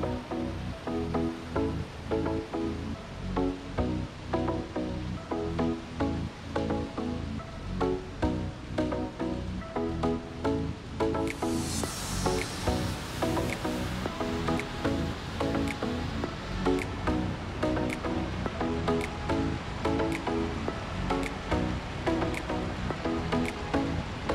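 Mountain stream water rushing and gushing from springs in the Kamniška Bistrica valley, Slovenia, a steady, loud, broadband roar that continues without a break throughout.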